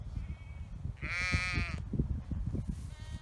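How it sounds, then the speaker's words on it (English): Sheep in a grazed pasture field bleat once loudly and clearly at mid-distance, over a background of rustling and wind, with fainter calls later. "sheep are back in this field again"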